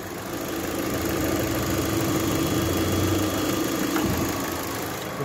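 Lada Vesta engine idling with a knock, a steady mid-low hum at moderate level with a faint regular tapping underneath and a brief louder bump near the end.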